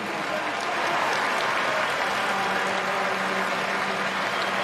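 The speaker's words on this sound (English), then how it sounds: "And another round of applause" Stadium crowd at a Canadian Football League game between the Saskatchewan Roughriders and Toronto Argonauts applauding an injured player helped off the field, steady broad applause throughout, loud and continuous.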